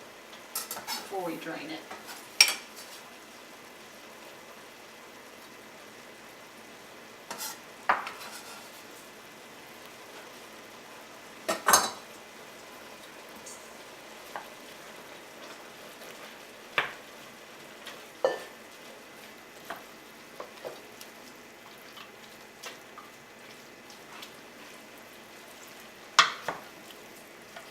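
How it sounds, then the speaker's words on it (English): Onion, garlic and hamburger meat sautéing in a pot for spaghetti sauce: faint, low sizzle under scattered sharp clanks and scrapes of a utensil stirring against the pan, with brief speech near the end. "add our onion and our garlic so that we can saute it with the hamburger meat"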